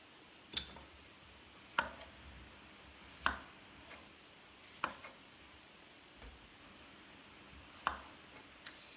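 A knife chops through zucchini on a cutting board, about seven sharp, separate knocks spaced a second or more apart, close and fairly quiet.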